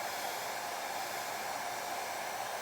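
A hair dryer blows with a steady, even whoosh of airflow at a low, constant level, with no talking.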